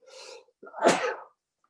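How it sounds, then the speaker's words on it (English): A single loud sneeze: a quick sharp intake of breath, then an explosive burst, with silence after. "sorry, I had to sneeze, guys"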